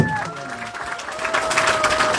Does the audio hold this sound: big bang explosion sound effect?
no